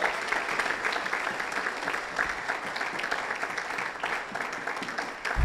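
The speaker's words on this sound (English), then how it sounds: "won't you give him a round of applause" A church congregation at a morning service applauds to welcome a speaker, an even, moderately quiet patter of many hands continuing without pause and without clear voices.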